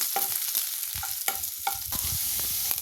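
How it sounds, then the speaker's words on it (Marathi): Chopped garlic and ginger frying in hot oil while being stirred for homemade Schezwan sauce, a steady close sizzle punctuated by repeated sharp scraping strokes of the spoon against the pan. "आता त्यामध्ये मी घालतेय लसूण आपण बारीक चिरलेला, आलं घालतेय बारीक चिरलेलं, त्याला थोडं छान हलवून घ्यायचं"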